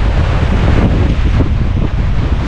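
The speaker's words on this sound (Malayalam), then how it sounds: "കാറ്റുള്ളോട്ടാണ്." Strong wind buffeting the microphone at a hilltop viewpoint at Ramakkalmedu in Idukki, a loud continuous low roar with gusty surges, no voices.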